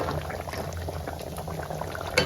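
Dry fish curry simmers in a pot with aubergine and coconut, a steady close bubbling boil with small pops, continuous and moderately loud.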